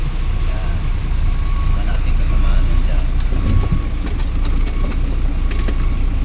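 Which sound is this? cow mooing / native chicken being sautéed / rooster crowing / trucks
trucks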